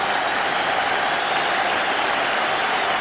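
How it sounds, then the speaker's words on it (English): A stadium crowd at the Ireland versus Soviet Union World Cup qualifier applauds Michael Walsh as he is substituted, a broad, steady wash of clapping and crowd noise heard from a distance without a break. "the crowd give him a rousing round of applause"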